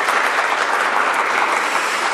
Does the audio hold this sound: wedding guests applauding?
yes